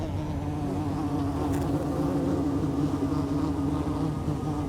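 Ground-nesting bees buzz constantly around their tiny underground colony, a dense, continuous hum of many insects close by, steady in loudness with no voices.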